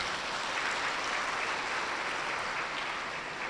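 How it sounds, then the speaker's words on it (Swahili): Steady applause from an audience at a national forum on clean cooking energy, clapping in honour of the men present; dense, continuous and fairly close, with no speech over it. "Naomba wanaume mlio wote mwapigiwe makofi"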